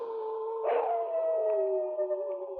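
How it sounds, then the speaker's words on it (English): A lone wolf howls as a radio drama sound effect in a 1951 Yukon adventure serial, a long, steady, mournful tone that swells briefly and then slowly falls, loud and close. "A wolf howled"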